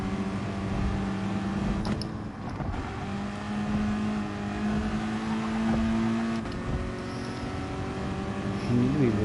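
A race car's engine in Gran Turismo Sport, heard during an FIA practice session as a steady, loud drone that shifts in pitch as the revs rise and fall, with a voice talking over it at times.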